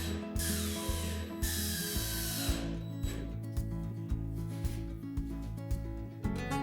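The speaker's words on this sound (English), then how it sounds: "And then add a few more screws." Screws driven into a bucket lid for a shop vac cyclone separator, likely with a power driver: repeated mechanical whirring bursts with ratcheting texture, close and moderately quiet, starting and stopping in a steady rhythm.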